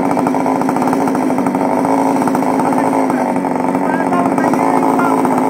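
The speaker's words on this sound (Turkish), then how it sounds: "Motorlu üzerine mobilet yaptı." A homemade moped powered by a chainsaw engine runs with a loud, close, buzzing two-stroke rasp, steady and continuous with a rapid pulsing rhythm throughout.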